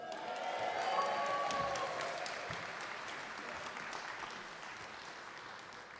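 Sustained audience applause with some cheering, loudest at the start and then holding steady as a broad wash of clapping, with a few voices in the crowd.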